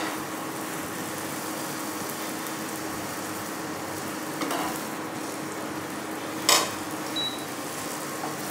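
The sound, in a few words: frying onion paratha in oil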